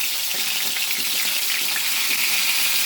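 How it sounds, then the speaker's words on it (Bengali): Tengra catfish dropped into hot oil, a continuous close hissing sizzle of frying that stays even and bright throughout, with no talking. "তেল গরম হয়ে গেছে, এক এক করে মাছগুলো ছেড়ে দিই"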